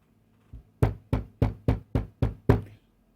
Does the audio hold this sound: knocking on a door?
yes